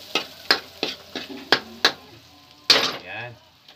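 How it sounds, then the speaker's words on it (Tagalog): Garlic sautés in a pan for a crab and vegetable dish, with a series of sharp spatula taps and scrapes against the pan over a light, steady frying hiss. "Pag ginagisa natin, kailangan magkulay brown na naman ang bawang natin."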